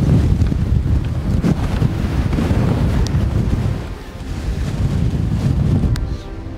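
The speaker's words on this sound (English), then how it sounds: "it's so windy" Strong wind buffets the microphone on an ice cap on an island, a loud, continuous roaring rush that dips briefly near the middle before surging back.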